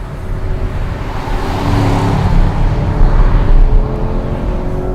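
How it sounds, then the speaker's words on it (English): Chevrolet Camaro SS V8 muscle car engine revving hard while driving, a loud, continuous deep roar that swells and holds close-up with no talking. "With an engine note like this, you really want to wrestle it around."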